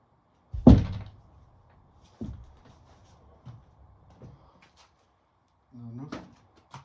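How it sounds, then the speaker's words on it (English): A door that won't stay shut is pushed closed: one sharp, close thump, then a few softer knocks and bumps as it is worked further, with a short burst of voice near the end. "Maybe I'll close my door a bit."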